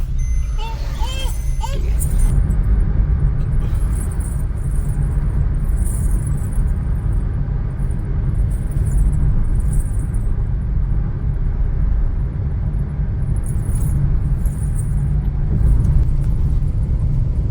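A car being driven on a trip to Guhagar beach, with a steady low engine and road rumble filling the cabin throughout and faint higher noises above it.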